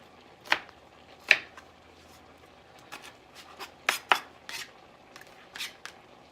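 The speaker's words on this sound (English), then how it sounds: "And I'm cutting it real rustic, real chunky." Knife chopping peppers into chunky rustic pieces on a board, a handful of sharp irregular cuts spaced apart, close and crisp with quiet gaps between strokes.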